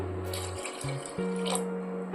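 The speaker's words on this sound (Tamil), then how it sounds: "கீரை வேகிறதுக்கு தேவையான தண்ணி சேர்த்து" Water pours into a pot of cooking amaranth greens in a short burst, its gurgling tone rising as it fills, close by with no voices.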